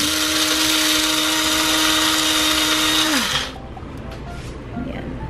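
A coffee grinder runs loud and steady on whole black peppercorns, whining at a constant pitch for about three seconds before spinning down, followed by a few light rattles.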